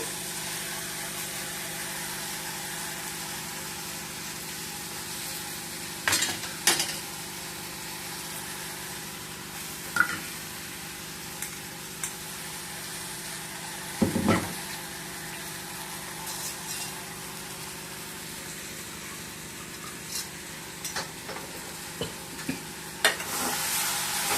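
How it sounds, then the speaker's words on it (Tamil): Ingredients for potato kurma are sautéed in a pan with a faint, steady hiss, broken by a few brief scrapes and clicks of stirring over a low background hum. "கொஞ்ச நேரம் வதக்கினா போதும்."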